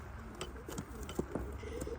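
A racing pigeon being handled gives several soft, low coos close by, amid quiet rustling and a steady background hum.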